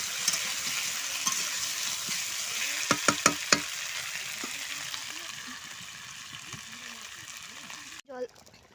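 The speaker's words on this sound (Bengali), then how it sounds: "আলু টমেটো দিয়ে ঝোল করছি।" An Indian-style curry of potato and tomato sizzles and bubbles steadily in a pan, with a few sharp clinks of a utensil stirring, then a brief voice at the end.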